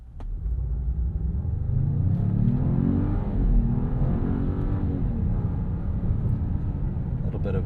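A 2026 Jeep Grand Cherokee with the Hurricane turbo engine pulls away from a stop, a steady, close engine rumble rising with a brief lag before building through the acceleration.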